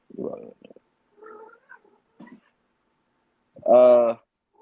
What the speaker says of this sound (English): My cat is loud.